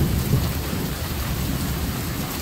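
Heavy rain pours down steadily during a thunderstorm with a tornado warning in effect, a dense, loud wash of rainfall on surfaces with low thunder rumbling underneath and no voices.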